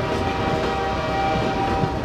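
A train pulls away in the zombie shooter No More Room in Hell, with loud rumbling rail noise, rattling carriages and a sustained horn-like tone running steadily throughout, no voices over it.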